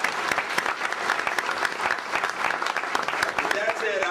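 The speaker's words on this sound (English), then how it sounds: "Give my team a round of applause for that." A conference audience at a keynote address applauds a collegiate cybersecurity championship team, with dense, lively clapping of uneven loudness that sustains for about four seconds.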